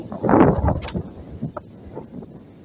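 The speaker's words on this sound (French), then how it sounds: "Il y a beaucoup de vent aujourd'hui." Gusty wind buffeting a microphone outdoors at a Traxxas XRT 8S RC truck run, loud low rumbling bursts at first that ease into a softer steady roar with a few faint knocks.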